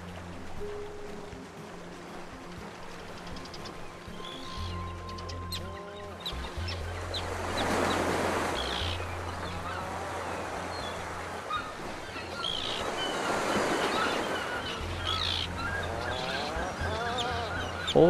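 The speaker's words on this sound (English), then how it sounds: "Whole lot of birds." A flock of birds calls and honks in the VR game Survivorman VR: The Descent while white-water canoeing, with scattered cries rising over a low droning game backdrop and no one speaking.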